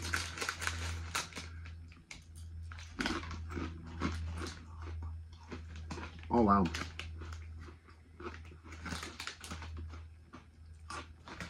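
Crunchy seasoned noodle and peanut snack mix is chewed close to the mic, with irregular sharp crunches and crackles between bursts of talking and a steady low hum underneath.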